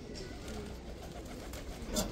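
A Satinette pigeon at a loft coos softly and low, a faint murmuring call under steady background noise, with a slightly louder note near the end.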